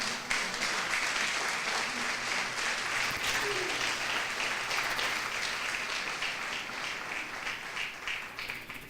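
A church congregation claps together in praise, a broad, steady wash of applause lasting several seconds at moderate distance, with no break in the sound.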